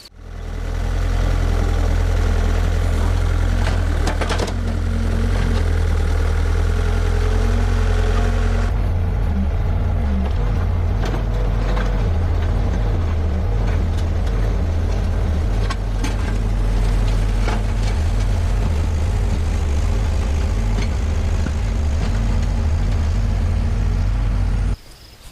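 A Bobcat skid steer's engine runs loud and close for the whole stretch, a heavy steady drone with a shift in load partway through as it drags large rocks toward a pond.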